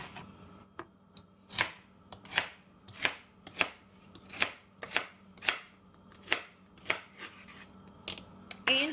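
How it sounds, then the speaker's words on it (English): A knife chops celery into large pieces on a cutting board for a Southern chuck roast, about a dozen crisp, separate thwacks at an uneven steady pace, close and clear with little else around. "We're going to chop up in just larger pieces."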